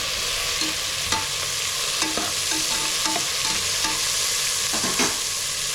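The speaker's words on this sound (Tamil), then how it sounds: "வெங்காயம் வதங்கிடுச்சு அது கூட தக்காளி சேர்த்து வதக்கி விட்டுருக்குறேன்" Onions and tomatoes sauté in a pan with a steady broadband sizzle, punctuated by scattered scrapes and clinks of a spatula stirring at irregular intervals, close and continuous with no talk.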